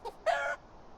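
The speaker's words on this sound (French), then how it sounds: "il y a des poules, les poules" A chicken in the medieval farming game Medieval Dynasty gives one short, loud cluck-like call, with a fainter cluck just before it and quiet background after.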